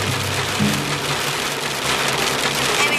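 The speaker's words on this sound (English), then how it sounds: "Now we're at the zoo and it's actually hailing" Hail pelts down at Dubbo Zoo as a dense, steady patter hissing across surfaces, loud and continuous with no voices.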